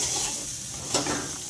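Grated carrot for carrot halwa sizzles and is stirred in ghee in a pan over a low flame, a steady close frying hiss with a brief scrape of stirring partway through.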